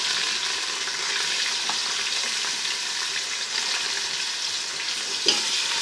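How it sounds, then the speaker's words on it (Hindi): Beef pieces fry in oil for a korma, a steady, dense sizzle close up that holds evenly throughout, with faint stirring and a single sharper utensil knock near the end, and no one speaking. "गोश्त को इसका रंग बदलने तक हमने थोड़ा सा फ्राई कर लेना है।"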